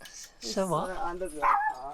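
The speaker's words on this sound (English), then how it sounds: "he keeps barking at me a lot." A pet dog at a van-life campsite gives a few short, close barks and yips, mixed in with people talking.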